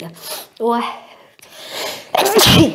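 A woman gives a single sharp sneeze at the end, preceded by a short exclamation and some breathy vocal sounds, loud and close.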